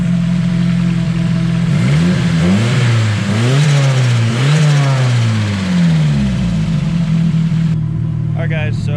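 Nissan 240SX engine revving in a garage, several rising and falling blips of the throttle over a steady idle, loud and close, with a brief clatter at the end.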